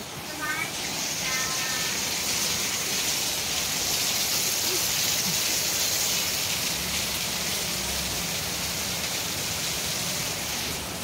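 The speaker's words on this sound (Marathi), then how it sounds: "आणि हा आपला पाऊस बघा काय मस्त पडतोय बाहेर." Steady, dense rainfall hisses throughout, a constant wash of noise with no breaks; a voice briefly speaks near the start.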